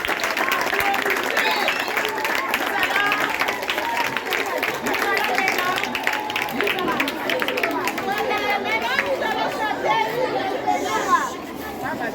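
Church children's gathering in DR Congo fills with continuous crowd chatter and applause, clapping blending with cheering voices at steady loudness throughout.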